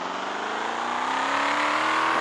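A BMW M8 engine in a Roblox video game revs steadily and climbs in pitch as it accelerates, loud and continuous, with no one talking.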